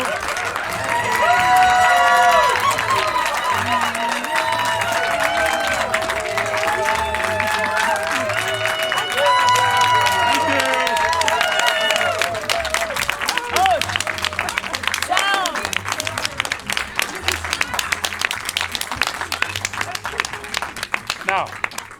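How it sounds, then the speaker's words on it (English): A theatre audience applauds after a play, loud sustained clapping from a large crowd with some cheering, continuing for many seconds with a brief voice over the applause. "Please applaud yourselves."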